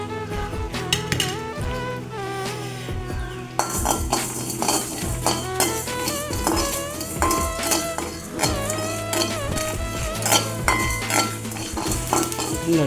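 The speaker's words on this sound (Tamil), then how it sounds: "ஹீட் ஆகினாப்பில் முதல் மல்லியும் சீரகத்தையும் போடுவோம்." Coriander and cumin seeds dry-roast in a heated pan at home, with steady stirring, scraping and metallic clinks of a spoon against the pan throughout, close and fairly loud.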